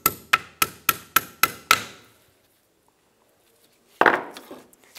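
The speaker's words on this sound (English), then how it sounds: "using a small hammer, I'm going to tap the pins out." Seven quick metallic hammer taps ring out in an even rhythm, loud and close, as a small hammer drives the caliper pins from a front brake on a 2000-2006 Toyota Tundra; after a silence one further scraping clank follows.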